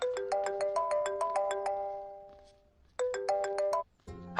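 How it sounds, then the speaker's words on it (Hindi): Telephone ringtone sounding in a Hindi-dubbed film scene; a bright, chiming melodic tune plays in two bursts with a short gap, the first fading out before the second begins, ending in a brief different sound. "भैया, आपको किसी का फोन आ रहा है।"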